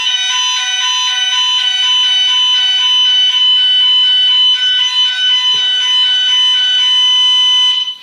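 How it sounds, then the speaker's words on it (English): A fire alarm goes off during a mathematics lecture on square roots, a loud, steady, piercing electronic tone with a rapid pulsing pattern that continues without a break throughout. "Sorry, fire alarm."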